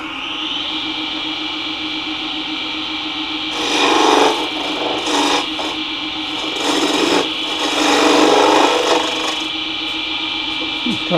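A skew chisel cuts a wooden blank spinning on a lathe, making a steady scraping, rasping tone with louder bursts of cutting pressure that come and go over the continuous hum of the machine.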